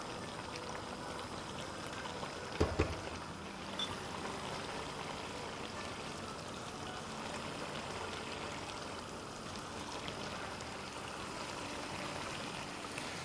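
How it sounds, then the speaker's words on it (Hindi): A tomato mixture cooks on a high flame as its water evaporates, giving a steady, even bubbling and sizzling hiss throughout with one brief clatter early on. "फ्लेम को हाई कर देंगे और पानी को थोड़ा इवेपोरेट करेंगे"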